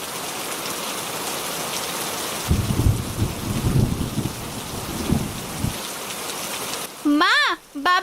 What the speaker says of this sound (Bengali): এত বৃষ্টি হচ্ছে যে আরেকটু হলে ঘরে পানি উঠে যাবে।